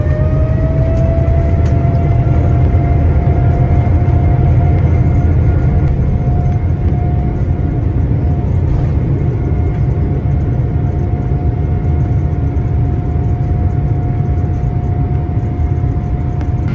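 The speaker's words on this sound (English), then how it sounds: "Here we have just the takeoff" An airliner takes off from runway 27 left at 6 a.m. on a non-stop flight to Australia, heard from inside the cabin as a loud, steady low roar with a constant whine held throughout.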